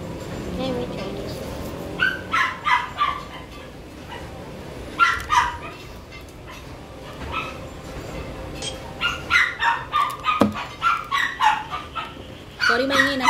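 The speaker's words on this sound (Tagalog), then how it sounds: "Sorry, may nasa labas kami so may mga doggos around" Neighbours' dogs outside yapping and barking in repeated short bursts, with some whimpering, moderately near, under steady conversational talk from people indoors.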